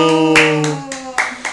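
Hands clap a few times at home, sharp distinct claps spaced unevenly, close and loud, following a sustained tonal voice at the start.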